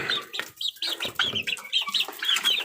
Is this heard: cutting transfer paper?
no